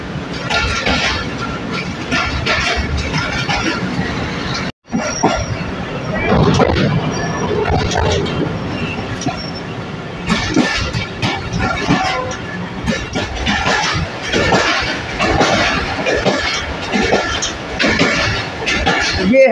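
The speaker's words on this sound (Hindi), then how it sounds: "ये है ट्रेन का शोरा आफाक साउंड ट्रैक" Shalimar Express train running on rails near Lahore, a steady loud rumble of the moving carriages with rhythmic rattling throughout, briefly cut off for an instant, with some faint voices mixed in.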